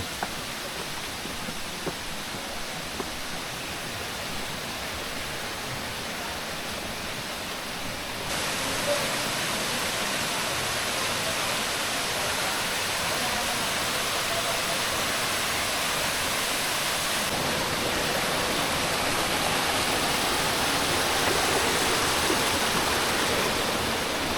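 A river flows beside Balite Falls in Amadeo, Cavite, giving a steady, broad rushing wash that grows louder partway through and holds constant with no voices.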